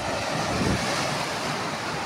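Heavy surf roars continuously, a dense wash of crashing sea waves with wind noise, loud and steady throughout with no voices.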